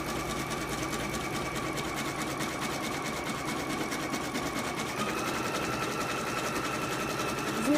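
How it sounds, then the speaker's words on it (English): Embroidery sewing machine running a placement stitch for a pennant, a steady fast mechanical whirring hum with rapid needle clatter, close and constant throughout, no voices. "The very first stitch is going to be a placement stitch"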